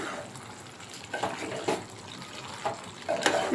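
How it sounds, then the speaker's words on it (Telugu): Water is poured into a pot of Andhra-style chicken curry, a soft broadband rush with a few brief clinks and splashes, close and fairly quiet with no talking. "ఇప్పుడు కొంచెం మగ్గిన తర్వాత తగినన్ని వాటర్ వేసేసుకోవాలి"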